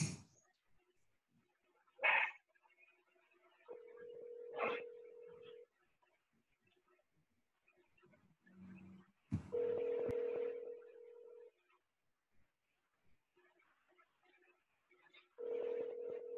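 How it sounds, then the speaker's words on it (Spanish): Video call ringing tone on a mobile phone during a call attempt in Colombia: several separate steady electronic tone bursts with gaps of near silence between them, faint and sparse, plus a few brief clicks. "Voy a hacer una videollamada desde mi teléfono allá."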